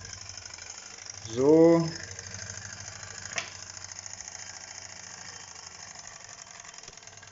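A Wilesco D365 model steam roller running while jacked up with its wheels turning freely indoors, giving a steady mechanical chugging throughout, with a brief spoken word early on.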